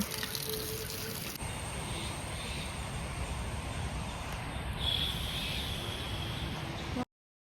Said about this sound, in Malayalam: ചേച്ചി കുടത്തിന്ന് വെള്ളം കളയുന്നു